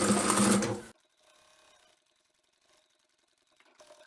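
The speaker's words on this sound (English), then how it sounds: "Let's take our first flap and just back stitch at the beginning and the end." A sewing machine back stitching a fabric flap closed, a brief loud burst of rapid needle chatter that stops abruptly, followed by faint mechanical rattles and a small restart at the end.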